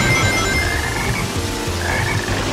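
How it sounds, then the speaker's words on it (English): Frog croaking in the Sonic Heroes video game, loud and close, a repeated rhythmic croak that runs throughout with no speech over it. "Hey, there's a frog over there!"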